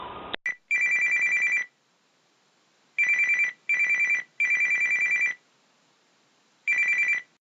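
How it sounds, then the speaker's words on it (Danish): A telephone rings on the line ahead of a phone interview, giving several loud, electronic trilling bursts with short gaps between them and no talking. "jeg har netop lige snakket med Thomas Medem på et telefoninterview"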